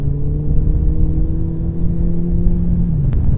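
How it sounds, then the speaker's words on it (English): Honda CBF1000 GT motorcycle with a Delkevic aftermarket exhaust, a steady droning engine note holding its pitch while riding, with a slight dip near the end, loud and continuous without any talk. "that exhaust, the Delkovich exhaust, does sound really good."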